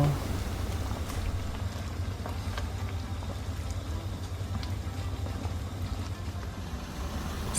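Thai green curry chicken soup simmering uncovered in a pot, a steady low bubbling and rumbling that holds evenly throughout with no voices.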